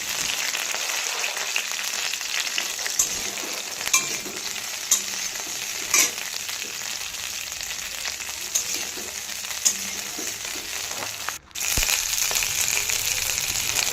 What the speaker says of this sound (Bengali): ব্রোকলিগুলো আমাকে আস্তে আস্তে ঢাকা দিয়ে ভেজে নিতে হবে।